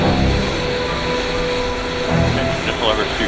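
A military aircraft engine spools up toward idle during startup, a steady loud turbine roar and whine with crew radio talk over it.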